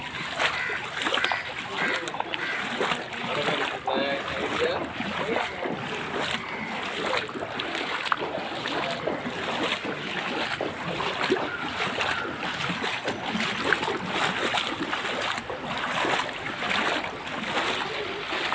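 Steady, dense splashing and sloshing of feet wading through sewage-tainted flood water in Chennai, 2021, continuing without pause throughout, close and fairly loud, with a voice talking over it.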